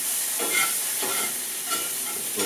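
Mushrooms stirred in a skillet, with soft scraping strokes repeating at an easy pace over a steady, hissy sizzle, close up and with no talking.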